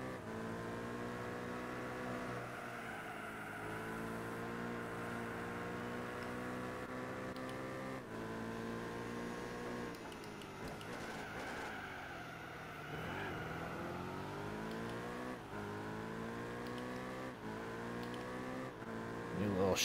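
Racing engine in Gran Turismo 4 at a supercar event, a sustained high whine climbing through gears with a nitrous boost, rising pitch sweeps and brief shift dips, loud and continuous.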